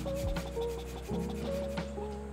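A small brush rubs and sweeps coffee particles off the parts of a disassembled 1zpresso ZP6 hand grinder, making soft, close scratchy strokes in short repeated passes at low volume.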